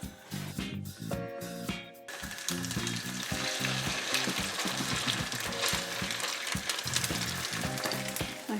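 Potato pancakes fry in olive oil in a flat pan, a steady close sizzle and crackle running throughout with a few brief clatters near the start.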